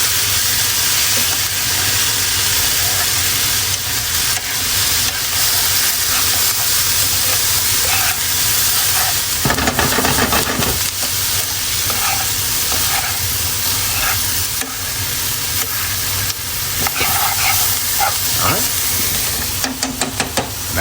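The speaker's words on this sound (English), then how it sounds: "Can you hear it sizzling?" Steak, onion and peppers sizzle loudly in a hot pan with a constant, bright frying hiss, broken by occasional scraping and stirring sounds close up.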